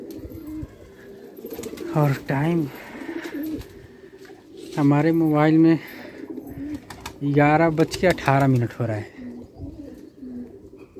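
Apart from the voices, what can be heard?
pigeons cooing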